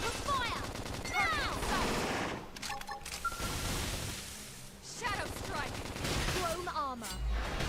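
Gunfire and blasts in the video game Xenoblade Chronicles X, dense and loud, mixed with game music and effects, while a player talks over it.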